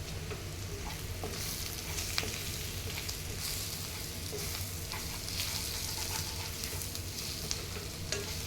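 Masala of chili powder and coriander powder fries in a pan with a steady, close sizzle, and soft scraping stir sounds come through now and then over the whole stretch.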